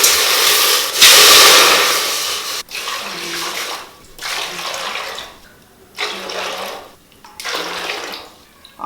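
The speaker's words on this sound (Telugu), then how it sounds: "ఎనిమిది గ్లాసులు వాటర్ యాడ్ చేసుకోవాలి" Water pours steadily in several bursts, glass by glass, into a pot, with short pauses between, a broad rushing splash close by, no voices.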